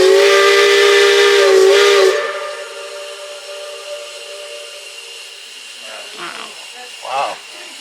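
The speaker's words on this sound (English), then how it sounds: "I'm about to do the whistle" A steam locomotive whistle on the Cripple Creek railroad sounds one loud, sustained multi-tone blast in a gulch, then fades into a long echo, with faint voices toward the end.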